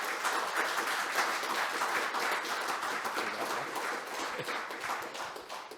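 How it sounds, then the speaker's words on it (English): An audience at a mining research consortium conference at the University of Adelaide applauds, a dense, sustained round of clapping from many hands that holds steady and then begins to thin toward the end. "So a big round of applause, please,"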